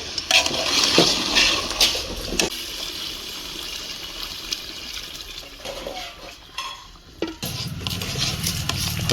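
Mutton curry being stirred in a large cooking pot at a Telangana village Ellamma festival: intermittent scraping and clattering of a utensil against the pot over a steady, noisy outdoor background.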